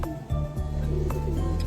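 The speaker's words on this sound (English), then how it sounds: "I'm trying to breed some jet black pigeon." Pigeons, black racing birds kept in a breeding loft, coo steadily with low, rolling throaty calls that repeat and overlap throughout, close and fairly loud.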